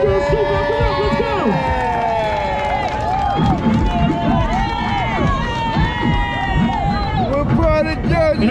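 Loud crowd on a Times Square street in Manhattan in summer cheers and shouts continuously, with whistles and babble layered over steady street noise.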